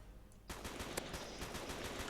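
Rapid automatic gunfire from a Roblox war game bursts in after a short quiet moment, a dense, continuous stream of close shots with no voices.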